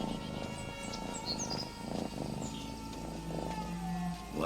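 A cat purrs softly and steadily amid quiet ambience in The Elder Scrolls Online's Southern Elsweyr, with faint chirping accents and a brief rising tone near the end.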